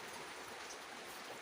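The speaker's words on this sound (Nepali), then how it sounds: "आज पानी परिरहेछ" Steady rain falling outdoors, a dense, even hiss of water that fills the whole short stretch at low level, with no voices and no distinct drops standing out.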